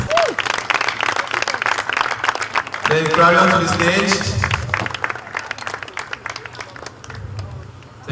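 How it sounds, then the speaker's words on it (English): Audience applause welcoming a singer to a stage show, loud and continuous under an announcer's voice and background music, with crowd noise swelling midway before tapering. "A round of applause"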